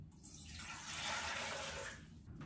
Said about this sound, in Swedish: Så vi börjar med att hälla i vattnet.